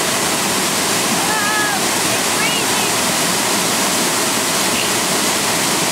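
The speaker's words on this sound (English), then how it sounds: "This is Shoals Falls." Shoals Falls waterfall in North Carolina roars as a loud, steady broadband rush of falling water, continuous and close throughout with no break.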